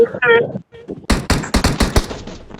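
Gunfire in PUBG Mobile: a rapid cluster of loud, sharp shots rattling in quick succession, preceded by brief game sounds and excited voices talking.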